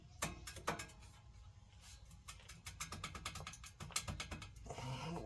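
Hand ratchet working a bolt loose on a vehicle transmission, with bursts of rapid clicking and pauses between strokes, close and fairly quiet with no talking.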